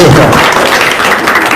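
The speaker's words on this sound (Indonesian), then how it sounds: "Sip, tepuk tangan dong." An audience at a religious talk applauds in a loud, dense burst of clapping that holds steady and close throughout.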